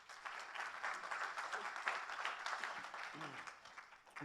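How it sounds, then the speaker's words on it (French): A conference audience at a plenary session on sustainable cities applauds a speaker being reintroduced, steady moderate clapping from many hands filling the room, with a voice briefly heard beneath it. "que vous pouvez applaudir, s'il vous plaît."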